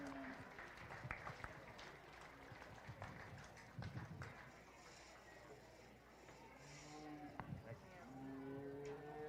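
Applause at a beef cattle show for a feeder calf class winner, faint and diffuse under the hall's ambience, with cattle mooing and lowing around it and muffled voices in the background.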